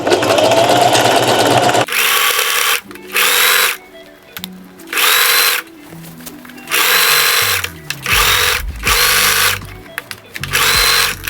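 A sewing machine stitches stretched elastic onto fabric for a halter top maxi dress, running in loud, close bursts of about a second each, separated by short pauses and soft background music.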